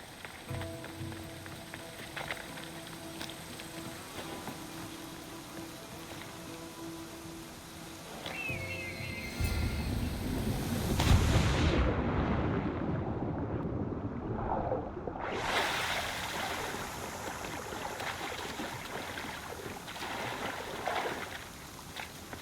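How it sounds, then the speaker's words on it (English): Rushing water from a waterfall in Assassin's Creed Odyssey swells into a loud, broad roar partway through, holding steady with a dip before fading back under quieter game ambience. "This is the waterfall."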